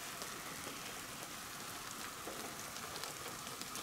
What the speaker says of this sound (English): I wish the rain had quit.